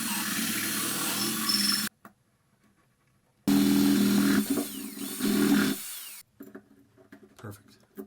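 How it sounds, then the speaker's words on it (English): A power drill whines loudly in two long bursts, boring a hole into an acoustic guitar's wood, with a quiet pause between and softer handling noises afterward. "So to bore a hole, I've got my drill bit set."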